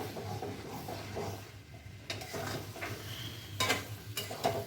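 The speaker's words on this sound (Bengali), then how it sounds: "মিষ্টি দেওয়ার পর ভালো করে নেড়ে চেড়ে নেওয়া হচ্ছে।" A spoon stirs cabbage curry with prawns in a pan at a quiet level, giving soft scraping and occasional metallic clinks over a faint sizzle, with no voices.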